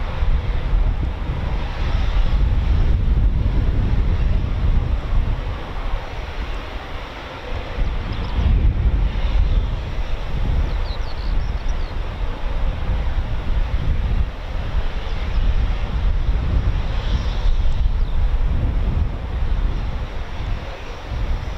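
Eurofighter Typhoon of 29 Squadron taking off at RAF Coningsby on a performance takeoff, a loud, steady, broadband jet roar filling the whole stretch with wind buffeting on the microphone and no voices.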